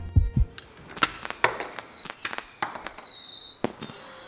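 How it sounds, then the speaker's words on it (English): A LEGO rocket cannon launch gives a sharp burst followed by a crackling series of firework-like pops and bangs that fade over several seconds. "Now, let's witness the rocket launch."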